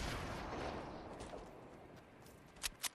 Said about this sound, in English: My nade launcher.